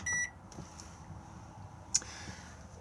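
Control panel of a microwave oven in an Auto-Sleeper Fairford motorhome kitchen, giving a short electronic beep as a button is pressed, followed by a single sharper click later; near and fairly quiet, with no talking.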